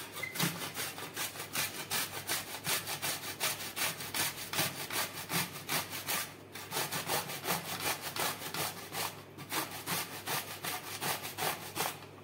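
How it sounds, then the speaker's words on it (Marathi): Cucumbers being grated on a hand grater for thalipeeth in a home kitchen, a steady rapid back-and-forth rasping that keeps up an even scraping rhythm with only a couple of short pauses. "त्या किसणीवर आपण हे सगळे जे काकडी आहेत ते ज्या प्रकारे मी सांगते त्या प्रकारे"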